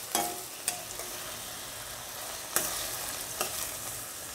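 Tomatoes, onion and garlic sautéing in a pan, a constant close sizzle punctuated by a few sharp spoon-against-pan clacks and stirring scrapes.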